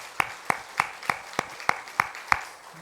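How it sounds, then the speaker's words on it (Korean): A church congregation gives applause to welcome an engaged bride and groom during a Sunday worship service, heard as eight evenly spaced, sharp clap-like bursts about every third of a second, fairly close and with no voices over them. "우리 박수로 환영합니다."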